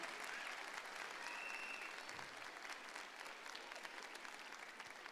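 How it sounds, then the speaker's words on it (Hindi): An audience claps steadily through the whole stretch at a 2023 school annual day celebration in Himayathnagar. The applause is quiet and dense, like a distant crowd heard from afar. "आपकी तालियां ही उनके लिए आशीर्वाद है"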